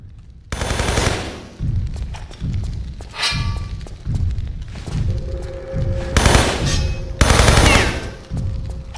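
Repeated bursts of heavy gunfire from the video game Tomb Raider III come as loud rapid volleys with short pauses between them, the firing continuing near and steady across the clip.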